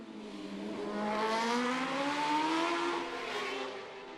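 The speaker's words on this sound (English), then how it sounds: "Now, Davey Todd on a superbike, the Burroughs engineering machine that Mike Brown has ridden this season." A superbike races at the Macau Grand Prix: a loud, high-revving engine whose whine climbs steadily in pitch, holds near its peak and then eases slightly, heard alone without commentary.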